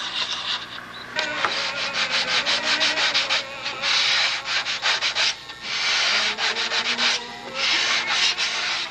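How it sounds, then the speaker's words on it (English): Steady back-and-forth sanding of wood with a sanding block, with quick rhythmic rasping strokes running almost continuously at close range. "get the last little bit with a sanding block"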